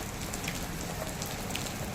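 Steady rain falling, a dense continuous hiss with scattered drop patter, fairly close and even throughout, no voices.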